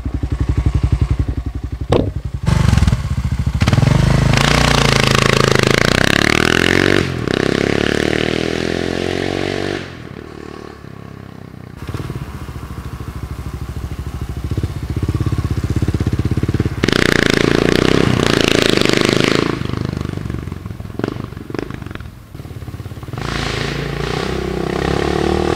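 A 2008 Kawasaki KLR650 single-cylinder dual-sport motorcycle engine under riding, loud and close throughout, with rising and falling revs, gear changes and a brief dip before pulling hard again.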